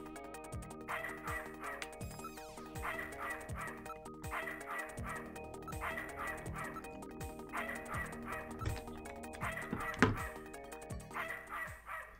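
Bursts of dog barking from a video game, set against continuous chiptune-style background music with rhythmic drum-like thumps, several barks spread across the stretch, moderate and steady, no one talking.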